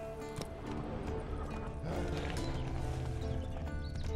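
Hooves clop and a horse snorts in the open-world video game The Witcher 3, a loud, dense mix of steady hoofbeats layered over rumbling game ambience and music.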